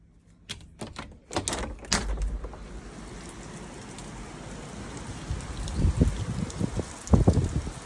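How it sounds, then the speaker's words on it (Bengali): Heavy rain drums steadily on surfaces as wind blows, with loud close bursts of patter that rise and fall throughout. "গাইস প্রচুর পরিমাণে বাতাস আর বৃষ্টি।"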